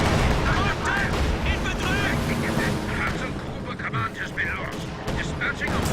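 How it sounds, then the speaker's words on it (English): A P-47 strafing run in Company of Heroes 2 lands as a dense barrage of gunfire and explosions, rumbling and crackling loud and continuous under excited commentary. "Oh, look at that P-47 strafe."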